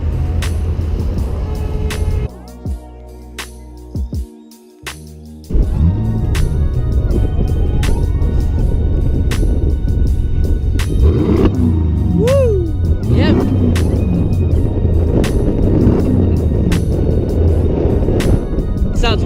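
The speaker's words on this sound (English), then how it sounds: "this is the S8. It's just a muffler delete." Audi S8 with a custom muffler-delete exhaust, loud and close, a steady engine roar that briefly drops off near the middle before surging back, with sharp pops along the way and people talking over it.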